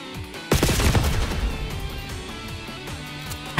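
Gunfire in Call of Duty Black Ops 6, a loud sudden shot followed by a ringing, crackling burst that trails off, with smaller impacts scattered after, no talking.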